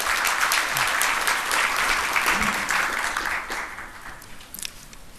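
An audience at a science forum applauds as a speaker is welcomed to the podium, a dense burst of clapping that gradually thins and fades over a few seconds.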